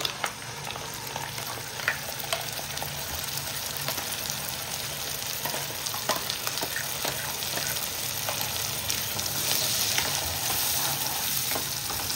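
An onion-tomato paste for paneer butter masala fries in hot oil, giving a continuous close sizzle and crackle with occasional stirring scrapes, steady and loud throughout with no talk.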